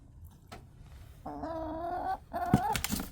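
A backyard hen in her coop during the morning egg collection gives a loud, close, drawn-out complaining cluck, then several shorter clucks over rustling and handling noise.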